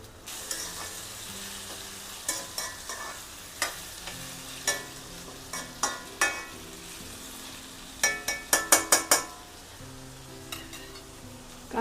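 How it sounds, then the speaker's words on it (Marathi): Onions and potatoes fry in a pan for a simple Maharashtrian meal, a soft continuous sizzle broken by repeated sharp scrapes and clatters of a spoon stirring, with a quick burst of scraping near the end. "आता कांदे पकत आहेत।"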